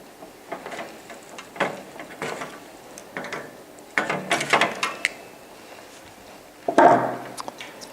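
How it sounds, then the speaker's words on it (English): Needle nose pliers tugging spade connectors off a fan switch on a Santa Fe Advance2 dehumidifier: scattered small metallic clicks and scrapes, a few sharper snaps, close and fairly quiet with no talking. "You'll have to use your needle nose pliers and just pull those off of the switch."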